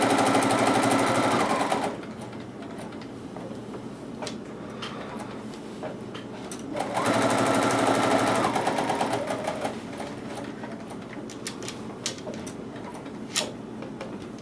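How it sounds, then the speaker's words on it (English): A sewing machine runs straight stitches along a flower pillow made with a Quick Points ruler, loud steady whirring bursts from the start to about two seconds and again from seven to eight and a half, with quieter fabric handling and clicks between. "And then I'm going to sew on the other side too,"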